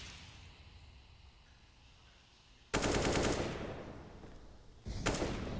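Bursts of rapid automatic gunfire from the video game CS:GO during a pro match at IEM Katowice 2022, two loud volleys after a quiet stretch of low background noise.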